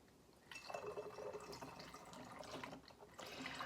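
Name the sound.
pouring kombucha into a bottle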